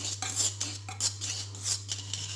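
A spoon stirs dough for homemade croissants in a bowl, making a few quick scraping, clinking strokes close by with a steady low hum underneath.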